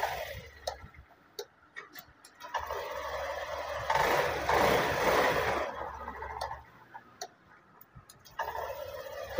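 A Honda scooter engine cranks with a quick ticking electric starter, catches, and settles into a steady idle with a broadband rumble peaking midway.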